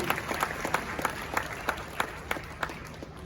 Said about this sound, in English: Please help me with a big round of applause